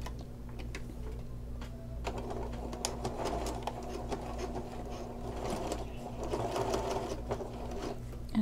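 Sewing machine stitching the seam of a fabric clutch bag with a 1/4 inch seam allowance: a continuous close mechanical whir and rapid ticking run throughout, rising and falling slightly in speed.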